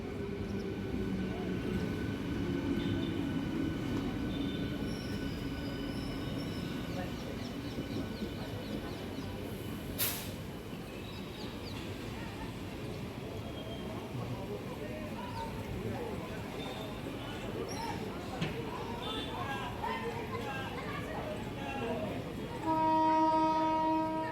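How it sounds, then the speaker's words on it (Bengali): A Howrah–Bardhaman up local train pulls into platform two at a station, a steady rolling rumble of wheels and carriages filling the scene, with a short horn-like tone near the end and voices faintly in the background. "এই যে দেখুন হাওড়া বর্ধমান লোকাল ঢুকলো দু নম্বরে"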